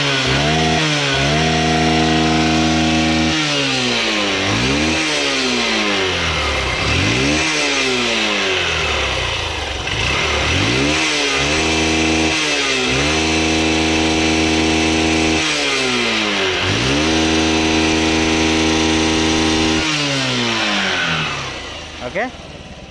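Engine said to run on water fuel technology, revving repeatedly in rising and falling surges over a steady loud mechanical drone, close by, with a brief drop at the end.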